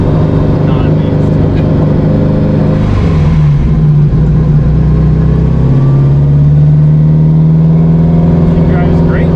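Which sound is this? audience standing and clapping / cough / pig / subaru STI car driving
subaru STI car driving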